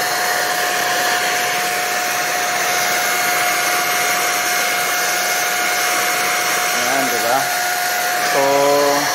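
An INGCO electric spray gun running while spraying thinner to clean it, a steady loud motorized whine and hiss throughout, with a brief change in tone near the end.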